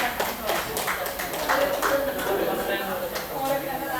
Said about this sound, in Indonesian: Oh, ya beri tepuk tangan.